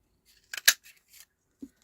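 Scissors cutting out a piece of paper card during Easter card making, a few quick crisp snips in a short burst followed by a single faint soft thud, close and fairly quiet with no talking.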